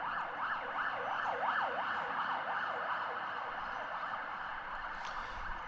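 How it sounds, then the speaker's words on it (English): An ambulance siren wails through a repeating rising and falling tone as it passes a gateball championship venue, fairly distant and steady over light outdoor background noise. "An emergency services vehicle going by, an ambulance."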